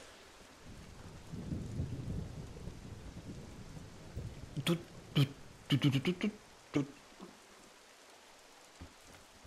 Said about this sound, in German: Und jetzt haben wir das Gefühl, jede 15 Minuten hast du irgendwie hier Regen.